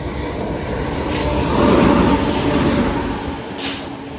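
Netravati Express passing a small railway station on Munroe Island, a loud close roar of rolling carriages that swells in the middle, with faint wheel squeal and hiss throughout.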